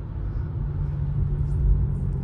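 A 2023 Hyundai Elantra in stop-and-go traffic, heard from inside the cabin as a steady low road and engine rumble that swells slightly, muffled and continuous with no talk.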